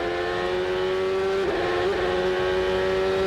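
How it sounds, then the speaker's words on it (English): A 2003 Champ Car race car engine on the Cleveland runway circuit, a loud steady high-pitched drone that briefly flares in revs twice as the rear tires lift off the ground, heard from on board with no voices. "Hear the engine rev when the rear tires hop off the ground."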